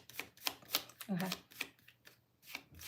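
Tarot cards are shuffled close up in quick, crisp flurries of riffling and slapping, with a soft voice talking briefly between them.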